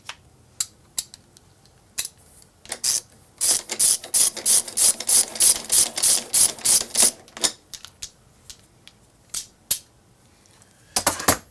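Ratchet clicking as a tensioner wheel is removed in a shop, a fast run of sharp, evenly spaced clicks in the middle flanked by scattered single clicks, close and fairly loud.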